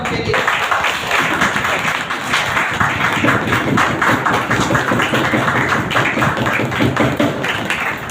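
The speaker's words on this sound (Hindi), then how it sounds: "आइए जोरदार तालियां उनके लिए।" A church congregation at a healing and deliverance meeting claps loudly and continuously for Master Suraj, a dense, rhythmic wash of hand claps close by that persists throughout.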